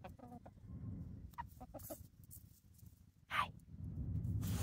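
Hens and young pullets in a backyard flock cluck on a cold winter day, with a few short clucks and one louder call close by over a low outdoor rumble.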